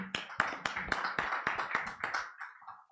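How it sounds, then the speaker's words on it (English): A small audience at a property investment conference claps in a brief burst of sharp, uneven hand claps that quickly thins out and stops. "Please, a round of applause for him."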